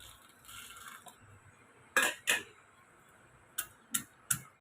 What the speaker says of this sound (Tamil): இப்போ மசாலா எல்லாம் நம்ம இடித்து எடுத்துக்கிடலாங்க